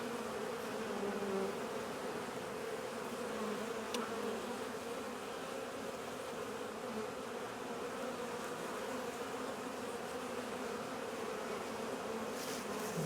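Honeybees buzz around an opened hive during an early spring queenless split, a dense, continuous hum of many wings with individual bees droning past nearby, heard alone without talk.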